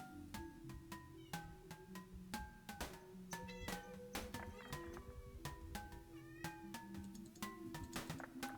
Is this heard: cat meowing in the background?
yes